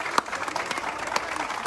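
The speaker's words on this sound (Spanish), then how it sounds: "Momento de subir a Big Boy, darle un aplauso, despedirlo." Crowd applause sending off an elephant being loaded into a trailer during a rescue, a steady patter of clapping at moderate level with a few sharper claps standing out.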